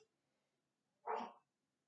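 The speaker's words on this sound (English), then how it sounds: "There she goes barking." A very tiny dog outside gives a single short bark, faint and distant, in an otherwise quiet room.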